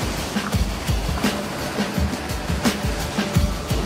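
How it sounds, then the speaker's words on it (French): High ocean surf rolls and crashes in a constant roar, with repeated bursts of breaking water against a dense wash of hiss, loud and close, with no talk over it. "les vagues sont vraiment trop hautes"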